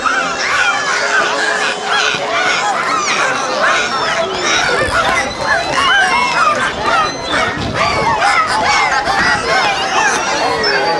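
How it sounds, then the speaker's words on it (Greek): Dolphins at Attica Park, Greece, let out a busy stream of high chirps and squeaky whistles through the blowhole during a show, overlapping and dense, with crowd chatter beneath. "παράγουν κάποιους ήχους επικοινωνιακούς, με τους οποίους επικοινωνούν μέσα αλλά και έξω από το νερό"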